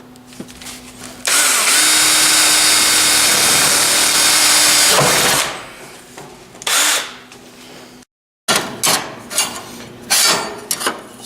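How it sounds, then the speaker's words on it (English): Power drill boring a 1/8 inch hole up through a Land Cruiser's steel roof, a loud steady whine lasting several seconds, followed by shorter bursts of drilling and clattering tool handling. "drill a hole up through the roof, you know, like an 1/8 inch hole"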